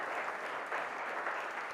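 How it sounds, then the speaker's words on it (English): A college event audience breaks into applause, a dense continuous clatter of many hands clapping at steady volume. "Join your hands and give him a big round of applause."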